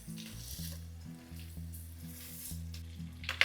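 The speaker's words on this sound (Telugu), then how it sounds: "ఇవన్నీ దూరగా నెయ్యిలో వేగనివ్వాలి." Almonds, dry fruits and flax seeds frying in ghee, a steady close sizzle with soft crackle, interrupted by brief stirring noises, with a louder clatter right at the end.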